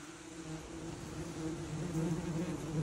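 European wasps at a dug-up ground nest produce a steady, close buzzing hum that swells slightly louder toward the end, with no voices over it.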